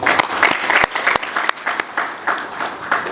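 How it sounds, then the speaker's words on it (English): A crowd at a community foundation event claps for the organisers, irregular close applause with sharp individual claps, tapering in the latter half. "just make a round of applause to everybody who participate putting this thing together"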